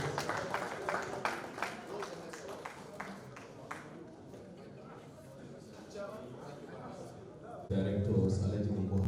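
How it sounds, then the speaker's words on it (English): Scattered clapping from an audience at a news outlet's fourth-anniversary award ceremony, honouring an award recipient. It rises and thins over the first few seconds, then gives way to a voice talking and a louder low rumble near the end. "a round of applause for Honorable Mohammed Abadisa."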